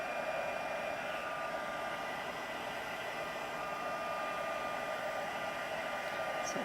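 Constant whirring blow of a heat tool warming vellum paper in a crafting technique, steady and even throughout at close range, with no talk.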